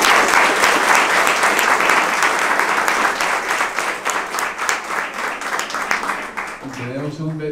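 Audience applause fills an award ceremony, dense steady clapping that thins toward the end as a voice begins speaking.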